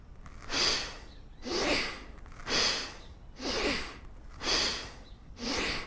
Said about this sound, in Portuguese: E vai deixando a respiração mais rápida, junto com o movimento.